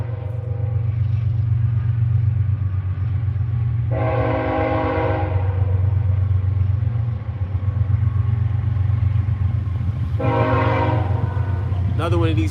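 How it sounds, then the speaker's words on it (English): A passing train rumbles loudly and continuously close by, with two blasts of its horn, the first held for a couple of seconds and a second one several seconds later, in upstate New York. "another train's coming by"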